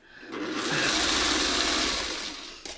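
A sewing machine stitches fabric pieces together for quilt sashing, a continuous close whirring run that starts up and stops within a few seconds.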